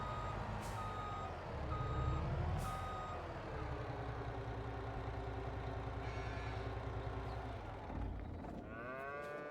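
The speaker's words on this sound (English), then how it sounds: "I've been driving around with an open tanker" Open tanker truck in a farming simulator game rolling along with a steady engine drone, reversing beeps and cattle mooing around it, air brakes hissing near the end; no talk.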